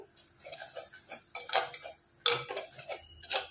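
A spoon scrapes and taps against a pan while coriander powder and chilli are stirred into a crab curry masala, giving quiet, irregular clicks and scrapes close by.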